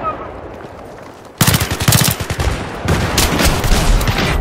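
Rapid bursts of gunfire in the shooter game Battlefield 3, loud and close, starting abruptly after a quiet stretch, with a brief lull before a second sustained volley.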